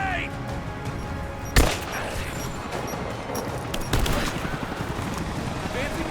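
Gunfire during a firefight in the video game Rise of the Tomb Raider: a steady crackle of rapid shots with two sharp, loud bursts standing out, under a constant noisy battle wash.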